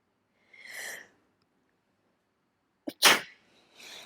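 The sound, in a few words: loud sneeze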